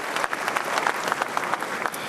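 Audience at an honorific lecture in Ghana breaking into applause, a thick, even burst of many hands clapping close and loud throughout, no voices standing out.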